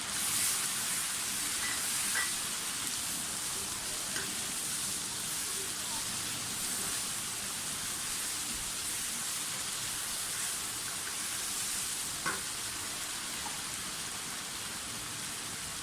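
Tomatoes, green chillies and spices fry in a pot for vegetable biryani, producing a steady, dense, rain-like sizzling hiss that runs unbroken throughout, with a few faint pops and clicks.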